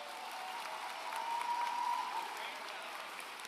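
Applause at a high school graduation ceremony, a sustained crowd clapping that swells in the middle and then eases off, with faint voices underneath.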